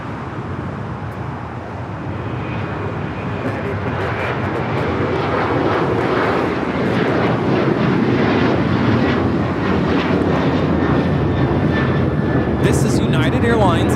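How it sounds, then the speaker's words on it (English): United Airlines Boeing 737-900ER taking off at LAX: a loud, swelling jet engine roar heard from the ground nearby, building steadily across the whole stretch with broadband rumble and hiss. "This is United Airlines 1805 taking off to Baltimore on the 737-900ER"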